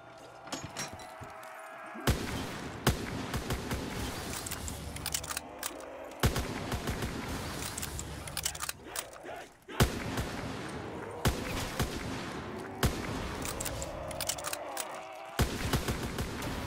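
Loud, repeated rifle shots from a PTRS in a Call of Duty Zombies custom nightclub map, sharp cracks spaced a second or two apart over busy game noise, with a voice now and then.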